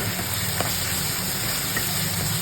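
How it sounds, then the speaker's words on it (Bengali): Kashmiri chilli powder and ground green chilli masala fry steadily in hot oil, a continuous close sizzle with a couple of faint clicks of a spoon against the pan. "ভালো করে কষিয়ে নেব মশলাটাকে।"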